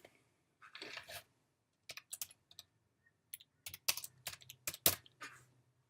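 Bursts of clicky typing on a computer keyboard while a project title is entered, short irregular runs of keystrokes separated by pauses, close and fairly quiet with no talking.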